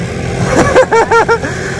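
A scooter engine revs in short bursts, four quick rising whines close by over steady street noise in Vietnam.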